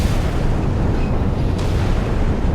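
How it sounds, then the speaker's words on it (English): Missiles explode in a naval battle between US and Chinese warships in the game Sea Power, a dense, continuous low rumble of blasts with a faint sharp crack partway through. "Cross-firing missiles here."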